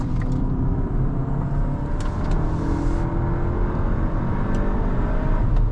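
Cupra Leon ST VZ estate tuned to 400 horsepower, driven hard in its sport mode, a loud sustained engine and road rumble heard from inside the cabin, with a few light clicks over it.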